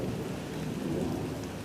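Steady rain falling on an early May evening, a constant soft hiss with no breaks and no voices.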